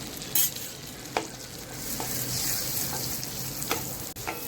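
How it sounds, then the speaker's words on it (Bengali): Chopped garlic fries in Amul butter in a hot wok, giving a steady close sizzle broken by a few sharp scrapes and clicks of stirring, with no talking. "রসুনটা খুব ভালো মতো করে ভেজে নিচ্ছি।"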